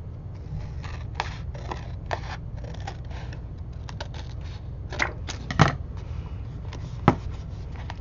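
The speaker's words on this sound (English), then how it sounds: "And then I'm just going to cut off the extra." Scissors trimming excess paper for a portfolio, producing faint, close snips and crisp paper rustles over a low background hum, with a few sharper cuts near the end.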